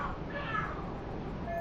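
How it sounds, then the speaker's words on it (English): Cats fighting and screaming in the video game Lost Judgment, a faint, drawn-out yowling wail with a speaking voice underneath. "Are there cats fighting?"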